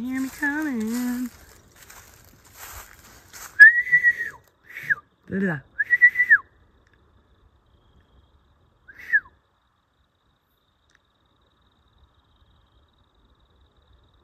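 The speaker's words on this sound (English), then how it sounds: "I can't really whistle that well." A person whistles a few short, high notes that start and stop, set among spoken bits and long quiet stretches.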